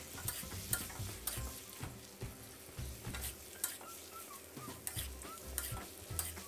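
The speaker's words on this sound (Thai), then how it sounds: "ให้เราใส่ไข่เจียวเราลงไปเลยครับแล้วก็ผัดคลุกเคล้าให้เข้ากันนะครับ" A fried omelette is stir-fried in boiling holy basil sauce in a pan, a quiet sizzle under repeated close scraping and tapping of the spatula in an irregular rhythm.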